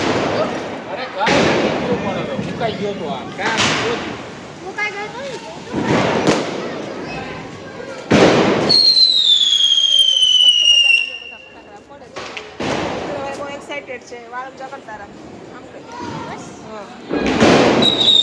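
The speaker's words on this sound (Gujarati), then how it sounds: "નીચે બધા મસ્ત મજાના ફટાકડા ફોડે છે" Diwali firecrackers and fireworks burst below a residential building, loud sharp bangs every couple of seconds, with one whistling rocket streaking upward; a person talks over the blasts throughout.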